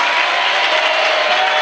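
Church congregation clapping steadily at a Hindi-language worship service, a dense, sustained wash of applause with no pause.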